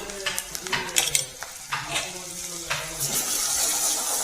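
Bay leaf and onion tossed into hot oil left from frying rohu fish, giving soft clinks of a utensil against the pan, then a rising, steady sizzle near the end.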